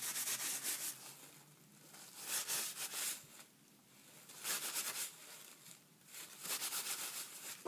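Plaster wrap mixture is rubbed by hand onto a mixed-media bear, giving faint, close scratchy rubbing strokes in repeated bursts, with quiet pauses between them.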